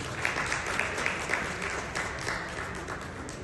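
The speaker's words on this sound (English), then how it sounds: "Please give her another round of applause." An audience at a Toronto Tamil book launch claps in steady applause, a moderate, even patter of many hands heard from a short distance, with no talk over it.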